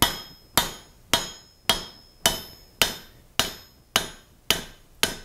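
A hammer drives down sheet metal for a rivet header in ten sharp, evenly spaced ringing blows, close and loud, each decaying quickly before the next.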